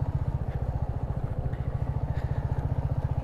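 A motorcycle engine idles with a fast, regular low thumping pulse as the bike is ridden into a parking spot on a touring ride near Adiyogi in Tamil Nadu, loud and close with no talk over it.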